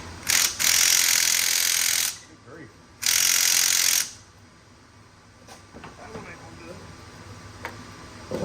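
Ratchet wrench loosening over-tightened glow plugs on an OBS 7.3 Powerstroke diesel engine, two loud, sustained bursts of rapid clicking close by, followed by quieter clanks of tools and faint background talk.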